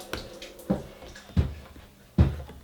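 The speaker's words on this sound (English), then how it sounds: "wash off the excess water on here." Water splashes in a few short bursts while excess water is washed off chicken pieces being prepared for Belizean recado chicken in a home kitchen, with four distinct splashing gushes separated by quiet gaps, fairly close.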